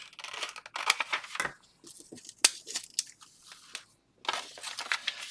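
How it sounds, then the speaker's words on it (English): Scissors cut through vellum paper along a score line, giving crisp crunching snips and rustles in short bursts separated by brief pauses, close and fairly clear. "Cut that a little bit at an angle, and then just cut all of that score line off of there."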